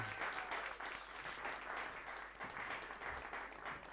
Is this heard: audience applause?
yes